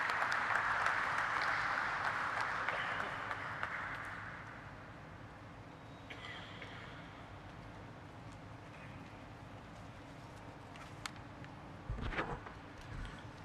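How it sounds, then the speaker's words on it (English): A round of applause at a pharmaceutical company's stock listing ceremony runs as a dense wash of many hands for about four seconds. It then thins out to a quiet room with scattered knocks and shuffles. "Let's have a huge round of applause for him"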